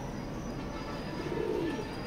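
A single faint coo from a male long-distance racing pigeon rises briefly midway through, partly buried in steady background noise.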